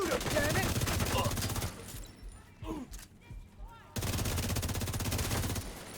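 Dense, loud automatic gunfire rattles in a video game, with a long burst, a quieter lull of scattered thumps, then another sustained burst.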